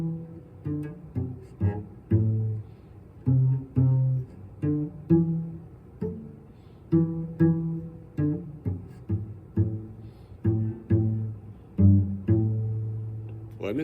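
A solo cello plays a complete short tune, a round, in steady rhythmic bowed notes, mostly low with repeated phrases, close and clear with no talking.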